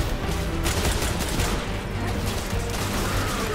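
Dense, continuous rapid gunfire in Destiny 2 fills the whole stretch, loud bursts overlapping with mechanical clatter and booms.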